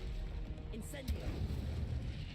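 Incendio fire spell cast in the Hogwarts Legacy video game, a brief fiery burst with a low booming rumble layered over steady game background sound, moderately loud and close.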